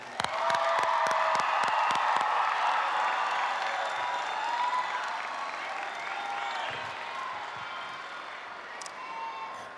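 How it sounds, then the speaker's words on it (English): Graduation crowd at a high school ceremony applauds and cheers loudly for the seniors, dense clapping with whoops and shouts, sustained throughout and easing slightly toward the end. "Again, can we give all of our seniors one more round of applause, please?"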